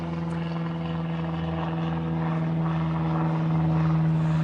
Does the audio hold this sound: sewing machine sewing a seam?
no